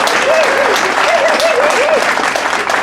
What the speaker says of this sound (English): let's have another round of applause for Brother Bill Harley.